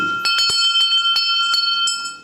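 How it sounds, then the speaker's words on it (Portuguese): A metal bell at the foundling wheel of an old hospital rings in a quick series of bright, ringing strikes, loud and close, with long overlapping tones and no talk. "tocavam este sino."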